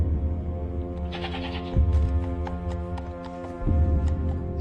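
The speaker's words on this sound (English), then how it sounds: "It's a goat." A goat bleats several times, its wavering cries sounding close and clear, while low animal or room noise continues underneath.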